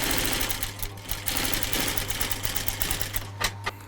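A sewing machine stitches piping onto a leather handbag, a fast, steady mechanical chatter with a low motor hum running continuously and close by.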